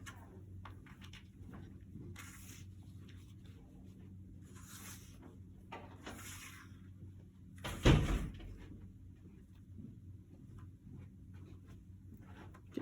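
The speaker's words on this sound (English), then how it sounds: "I'm gonna close the door for us," A door is pushed shut indoors during a tutoring session, giving one short, fairly loud thud over a faint steady room hum, with quiet background sounds before and after.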